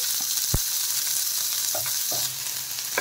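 Onion, green chilli, grated ginger and garlic frying together in hot oil, a dense, steady sizzle throughout with a couple of faint scrapes of stirring, no talking.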